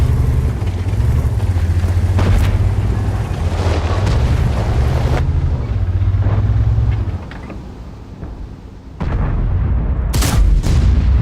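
Tank cannon shots in World of Tanks: a few heavy booming blasts over a rumbling engine drone, with the engine cutting out briefly before another loud report near the end.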